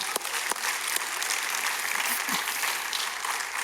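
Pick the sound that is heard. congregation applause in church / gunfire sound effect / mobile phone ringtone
congregation applause in church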